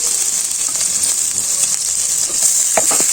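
Chopped onions and green chillies sizzle in hot oil in a kadai, a steady loud hiss throughout with a few brief stirring scrapes near the end.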